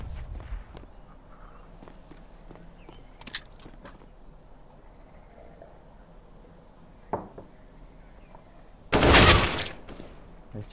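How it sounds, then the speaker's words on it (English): A flashbang grenade thrown in Counter-Strike on Faceit, with soft footsteps and faint clicks before a loud burst of bright hiss near the end that swells and fades over about a second and a half. "Throwing flashbang."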